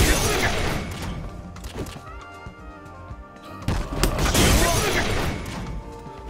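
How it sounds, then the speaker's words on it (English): Armor breaking in the Street Fighter fighting game gives a loud shattering crash, followed by thuds and a second heavy smashing burst amid game sound effects. "you can go ahead and do a Tesmaki, and you hear a shattering sound."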